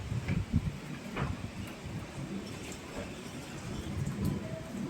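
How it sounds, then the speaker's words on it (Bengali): Sudden heavy rain pours down in a steady, dense wash of noise with a few louder splashes and rumbles, close and continuous throughout, with no voices. "হঠাৎ করে প্রচণ্ড মেঘলা করে এলো এবং বৃষ্টি চলে এলো"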